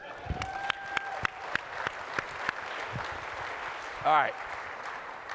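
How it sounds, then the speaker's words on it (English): Applause from a keynote audience at the IT Nation Secure 2024 conference, a broad, moderate wash of clapping beneath a few spoken words and scattered sharp knocks. "It's okay to clap now."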